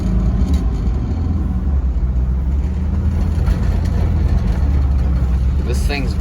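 A 1972 Volkswagen Westfalia camper's air-cooled engine revs up and down on its own while driving, a loud steady rumble with fluctuating pitch running throughout, overlaid by road and cabin noise.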